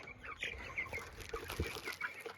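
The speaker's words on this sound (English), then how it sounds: "We're live at the chicken tractor. We got our chicks in there." Young chicks in a chicken tractor on a farm in the late evening, chirping and peeping in short, scattered bursts, with soft outdoor background noise.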